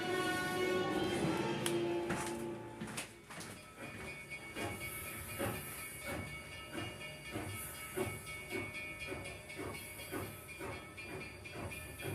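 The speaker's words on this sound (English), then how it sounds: "That there is the Durango and Silverton Narrow Gauge Railroad." A Durango and Silverton Narrow Gauge Railroad train passes with steam hissing, then a long run of rhythmic clickety-clack from the wheels, fairly distant and moderately faint, with no voices.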